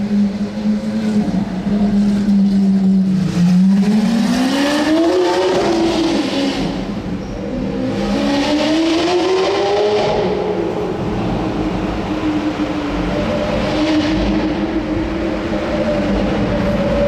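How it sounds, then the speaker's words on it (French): Lamborghini Aventador passing in the streets of Monaco, its engine roaring loudly and rising and falling in pitch as it revs, with rough exhaust pops and crackles, heard up close and continuously. "On va la suivre un petit peu, elle fait un bruit de malade. Bon, les retours d'échappement."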